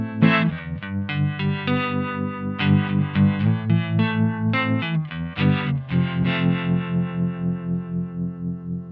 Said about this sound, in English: So the tremolo waveform only stays at the peak for a very short amount of time.